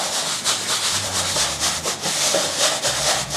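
A brush sweeps back and forth over sandstone-look plaster faux paint in quick, soft, continuous strokes, a close, dry whisking texture heard alone.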